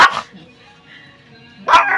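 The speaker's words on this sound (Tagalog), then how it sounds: "Kasi may aso akong aspin." An aspin (Philippine mixed-breed) dog barks sharply twice, once at the start and once near the end, with a quiet pause between.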